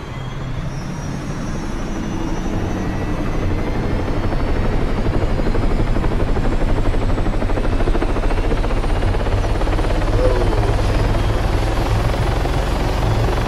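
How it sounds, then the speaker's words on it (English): A Pawnee helicopter in the game Arma 3: its rotor thumps and its engine roars continuously and loudly close by, steady throughout with no voices. "I'm gonna go ahead and hop in that Pawnee helicopter."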